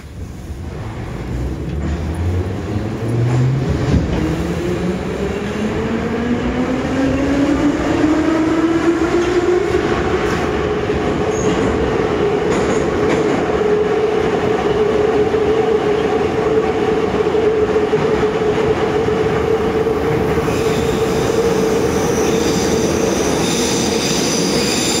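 A Moscow metro Ezh3 train on the Tagansko-Krasnopresnenskaya line pulls away and runs through the tunnel, its motors whining upward in pitch before settling into a loud, steady hum over continuous rumbling wheel and track noise.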